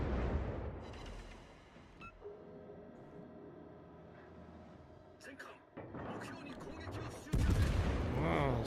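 Battleship guns firing in a naval video game, heavy blasts and rattling gunfire at the start and end, separated by a quieter stretch of droning tones, with talk over parts of it.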